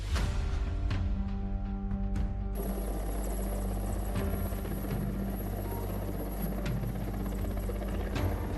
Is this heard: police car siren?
no